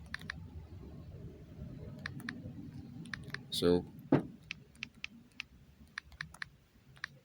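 Soft clicks of keys being typed in short bursts, with a quiet rumble early on and a brief louder rustle midway.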